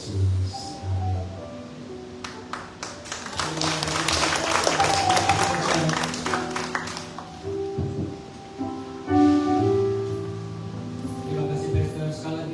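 A church congregation at a Sunday service claps for the pastor, scattered sharp claps building into fuller applause over sustained music, with voices mixed in.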